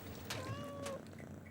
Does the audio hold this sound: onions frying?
no